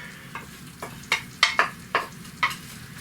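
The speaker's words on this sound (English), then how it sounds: "So as soon as that butter's melted, I'm going to get the onion in there." Onions and salt fry in melted butter, a soft sizzle with repeated scraping and tapping strokes of a utensil spreading and mixing them across the pan, close by.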